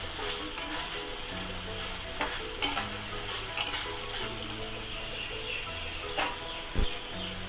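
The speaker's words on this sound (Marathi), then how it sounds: "तर त्याच्यामध्ये ना त्या मी तळून घेतलेल्या भाज्या घालणार आहे." Fried vegetables for a restaurant-style veg biryani tip into hot oil in a pan, giving a steady close sizzle with a few clinks and louder pops, no talking.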